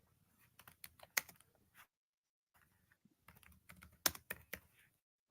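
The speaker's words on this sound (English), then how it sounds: "I hear you typing now" Fast, uneven typing on a computer keyboard, close and quiet, in two bursts of clustered key clicks with a short silent pause between them.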